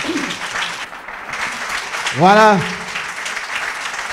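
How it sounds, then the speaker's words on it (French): Audience applause after a French-language talk on entrepreneurship, a steady wash of clapping throughout, with a short voice rising over it midway. "Est-ce qu'on peut applaudir?"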